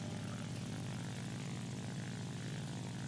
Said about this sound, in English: Let's try this G50 Series 7AS. Cool looking plane, I think.